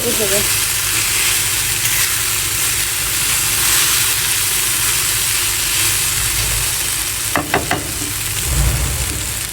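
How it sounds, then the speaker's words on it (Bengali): Okra frying in a pan gives off a steady, loud sizzle that continues throughout, with a few quick stirring clatters near the end. "ভেন্ডি ভাজি করতেছি দেখেন ভেন্ডি ভাজি করছি"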